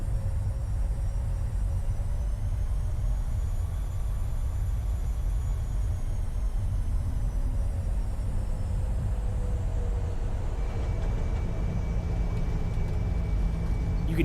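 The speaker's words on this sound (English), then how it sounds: "You can hear the speed brakes coming up." Speed brakes deploy on a PMDG 737-700 in Microsoft Flight Simulator, a shift in the steady loud cockpit rumble and airflow roar partway through, with a new tone rising as the panels extend.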